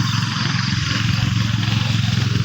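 A small power sprayer engine runs steadily nearby with a low, even chugging rumble, continuous and fairly loud.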